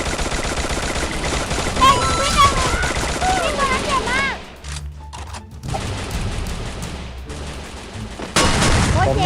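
Gunfire in the Free Fire video game comes as rapid automatic bursts and clustered shots, loud and dense, then briefly drops off before resuming, with excited voices talking over it.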